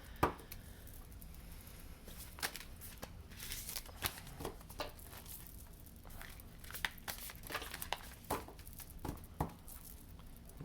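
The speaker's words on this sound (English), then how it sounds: "You can hear me shuffling probably." Animal spirit cards being shuffled, faint papery flicks and soft riffling bursts repeated irregularly in a quiet room.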